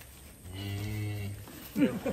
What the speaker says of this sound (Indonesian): sapi super gemuk